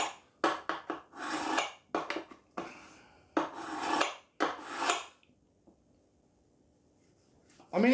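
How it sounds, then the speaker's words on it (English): A blunt butter knife, honed on a knife sharpener, cuts with repeated rasping, grating strokes, close and fairly loud, in short bursts followed by quiet. "that butter knife is completely blunt, and it is cutting through"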